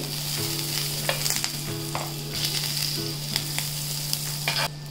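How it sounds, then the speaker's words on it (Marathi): Pav bread toasting in butter on a hot pan, a continuous close sizzle with a low steady hum and occasional scraping as the bread is moved, no speech. "आता आपण पाव शेकून घेऊया। त्याच्यासाठी अगोदर बटर टाकून घेते।"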